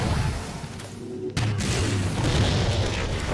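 An incineration cannon fires in an online shooter video game, giving a sudden heavy boom partway through over a constant noisy rumble of gameplay, with no talking during the shot.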